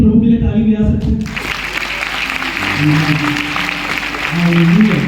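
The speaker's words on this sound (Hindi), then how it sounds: "क्या एक बार मिलके प्रभु के लिए ताली बजा सकते हैं?" A church congregation bursts into applause for God, a sustained crowd clapping that swells over lingering speech and a faint tonal backing, steady and dense until the end.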